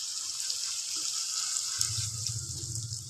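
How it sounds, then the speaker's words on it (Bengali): Water pours into a pot of chana dal being cooked with coconut, a steady close splashing rush that deepens into a lower, fuller gurgle partway through, with no one speaking. "জলটা দিয়ে দেবো"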